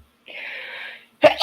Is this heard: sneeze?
yes